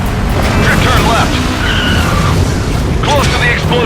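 Car drifting in the stunt driving game Stuntdrive Ignition, with tires squealing and skidding in several short bursts over a loud, continuous engine roar.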